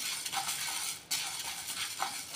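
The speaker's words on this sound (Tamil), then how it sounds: "பாசி பயிரை மனம் வர வரைக்கும் லைட்டாக வறுத்துக்கோங்க." Green gram (moong) dry-roasting in a pan on a stove, a steady soft hiss and faint scraping rattle of the grains stirred continuously, with a couple of brief clinks of the spoon.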